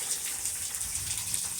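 Rain falls steadily outside in a garden, a soft, even hiss of drops with faint patter on surfaces, continuous and unaccompanied by any voice.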